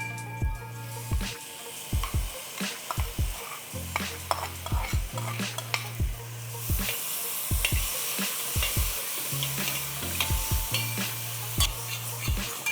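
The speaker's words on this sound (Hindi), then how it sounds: "सो अभी अच्छी तरह हम इसे भून रहे हैं" Tomato masala for a Bihari fish curry is sautéed in a pan: a steady sizzle runs beneath repeated rhythmic scrapes and taps of a spoon against the pan, close and continuous without talk.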